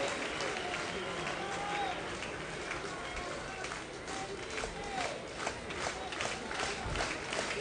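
A college baseball crowd at a 2003 Princeton versus Auburn game reacts to a two-strike count, a steady, dense roar of many voices that holds at an even level throughout.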